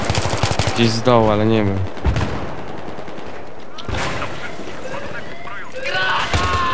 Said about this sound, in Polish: Skąd ten snajper nawala?